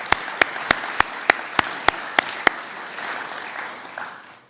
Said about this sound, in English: could we give those guys a round of applause